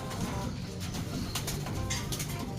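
A racing pigeon just returned home after about two weeks away gives soft, low cooing over a busy background, with a few brief louder bursts of noise.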